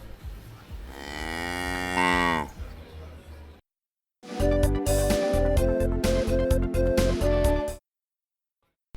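A cow moos in a comic audio pantomime, two long drawn-out lowing calls separated by a brief silence, loud and close with no other sound behind them.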